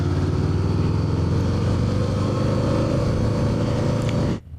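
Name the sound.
motorcycle riding in city traffic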